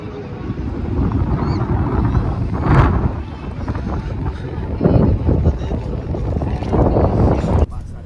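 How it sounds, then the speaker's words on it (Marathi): A boat moves slowly across the water on an evening dinner cruise, a steady engine and water rumble mixed with gusty wind buffeting the microphone, along with scattered background voices. "आणि yes the boat is moving."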